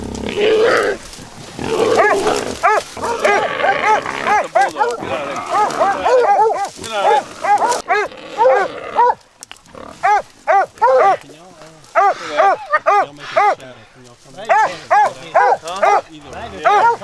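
Hunting hounds bark in rapid repeated bursts during a wild hog hunt outdoors, close and loud at first and then in steady rhythmic volleys, with people talking over parts of it.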